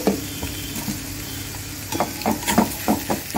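Potatoes go into a pan of frying masala over a low gas flame, with a steady soft sizzle and a series of stirring scrapes and clatters toward the end.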